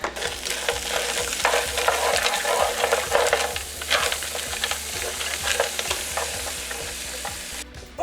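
Vegetables and vegetarian chicken cooking in a pan: a steady close sizzle with frequent scraping and stirring clicks throughout, moderately loud, and no voices.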